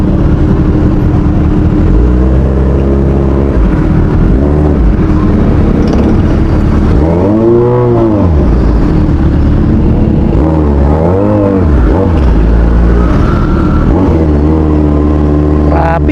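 Car engines idle and rev in slow traffic at a McDonald's drive-thru in Cainta, Rizal, a steady close rumble swelling with a few louder surges as vehicles creep forward.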